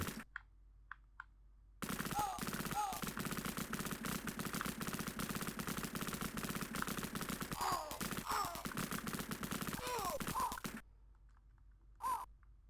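Soldiers shoot in the Sega Mega Drive game Cannon Fodder, a long burst of rapid retro gunfire rattling continuously for about nine seconds, with small synthetic cries mixed in and a short blip afterward.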